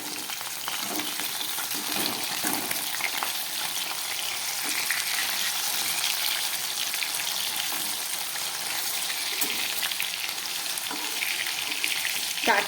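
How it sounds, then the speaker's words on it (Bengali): Fresh foloi fish fries in oil for a fish curry, a steady close sizzle with light crackling and a few soft knocks, constant throughout with no voices. "মাছটাকে আমি ভেজে নিচ্ছি"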